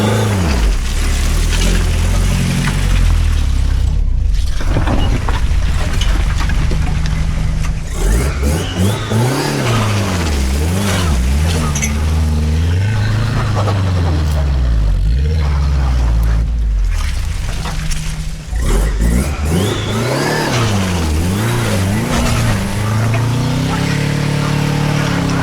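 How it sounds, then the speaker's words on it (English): A Subaru engine revs hard as the car tries to climb a very steep hill, loud and close with rising and falling revving sweeps and no speech. "if the Subaru can make it up this,"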